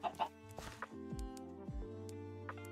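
Minecraft chickens clucking, with a few short clucks and two low thuds in quick succession, close and fairly quiet, no voices over them.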